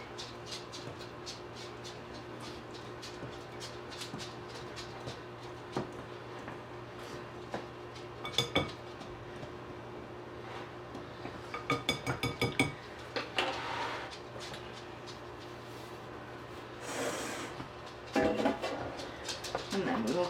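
A toilet bomb mixture with oil is stirred in a bowl. Quiet scraping and scattered clinks of a utensil against the dish grow busier toward the end, over a low steady hum.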